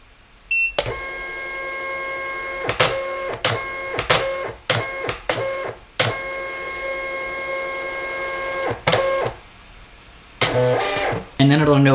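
A PEDOOLO thermal label printer whirs in short motorized bursts as it feeds labels during paper calibration, close and fairly loud, with stops and starts of uneven length and a few clicks between runs.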